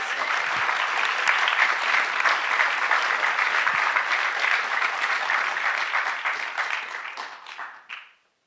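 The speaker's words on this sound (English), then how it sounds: "Can we give her a round of applause, please?" Sustained audience applause at a music policy summit, a thick wash of clapping that stays even before tapering off and stopping abruptly near the end.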